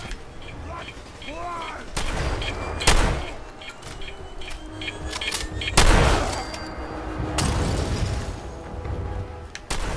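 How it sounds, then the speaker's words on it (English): A sentry bot blows up in the video game Fallout 4. Heavy blasts and booming impacts burst out at intervals over rumbling game noise. "when sentry bots die, they go up in one hell of an explosion"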